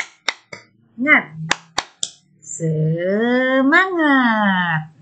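Children perform the rhythmic 'tepuk semangat' clap, a series of sharp, spaced claps in a set pattern, followed by a long, rising and falling shouted chant from their voices.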